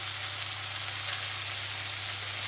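Onions, tomatoes and curry leaves fry in a pan for a broad beans curry, giving a loud, even, continuous sizzle with a steady low hum underneath and no talking.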